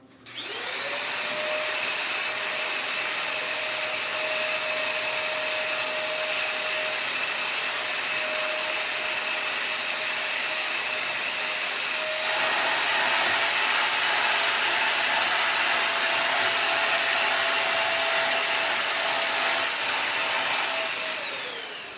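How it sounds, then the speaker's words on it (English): Vacuum cleaner running steadily during household cleaning, a loud close motor whine with a constant pitch that shifts slightly partway through, alone with no talk. "it's about to get a little loud because I gotta vacuum"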